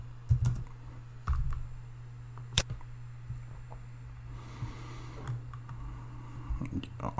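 Someone types on a computer keyboard, entering a search into a web browser: quick bursts of soft clicks and key taps, fairly close and quiet, with short pauses between the runs of keystrokes.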